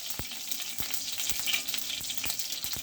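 Mustard seeds sputter in hot oil in a pan for cabbage poriyal, a close, continuous sizzle broken by sharp repeated pops and crackles.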